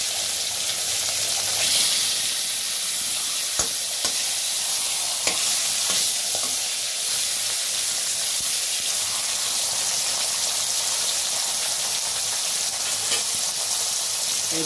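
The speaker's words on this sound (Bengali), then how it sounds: "আমি এখন মাছের মাথাটা দিয়ে দিচ্ছি।" A katla fish head fries in hot oil in a wok, giving a loud, steady sizzle that continues without a break, with a few faint clicks of utensils.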